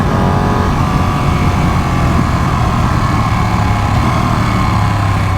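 A Ducati Panigale 959 motorcycle engine roars loudly and continuously close by, with a brief change in pitch early on that could be a quick-shifted gear change.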